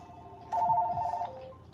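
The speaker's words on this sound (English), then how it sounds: "Hold on, the phone's ringing, you guys." A desk or office telephone rings in one steady electronic tone burst of about three-quarters of a second, fairly close and clear over a quiet room with faint low background noise.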